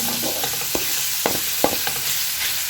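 Garlic sautés in a hot pan for a Filipino dish, giving a close, steady sizzle with a few sharp taps of a spatula stirring through it.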